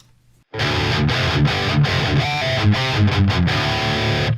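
Electric guitar through the JST Toneforge Guilty Pleasure plugin with overdrive engaged enters after a brief quiet moment, playing gritty, sustained notes and chords at a steady, loud level.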